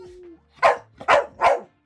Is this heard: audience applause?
no